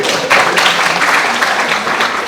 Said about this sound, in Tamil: துளசிராஜ் சாருக்கு ஒரு கைதட்டு கொடுங்க.